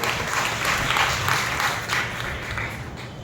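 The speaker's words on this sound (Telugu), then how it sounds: "బిగ్గరగా చప్పట్లు కొట్టి ప్రభువును మహిమపరచండి" A church congregation at a Lord's Supper worship service claps loudly together, a full, continuous wash of hand claps that swells and fades slightly, with no voices over it.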